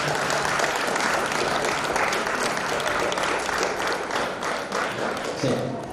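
A crowd of guests claps loudly at a church wedding, broad sustained applause that slowly thins toward the end, with a voice faintly underneath.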